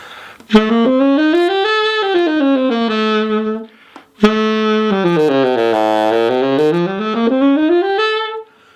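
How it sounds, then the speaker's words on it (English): A solo saxophone plays a smooth, sustained altered-scale line of notes, pausing briefly midway before continuing with a falling and rising run. "The altered scale is a really common use scale in jazz. Sounds like this."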